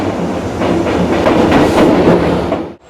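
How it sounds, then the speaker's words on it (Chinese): A Vietnamese sleeper train rolls in close by, a loud rumbling clatter with rhythmic clickety-clack wheel beats that fades away abruptly at the very end. "车终于来了"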